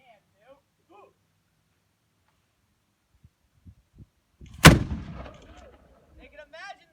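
A historic cannon fired at Fort Ticonderoga lets out one deep, loud boom that rumbles away after a quiet pause, with faint voices speaking before and after.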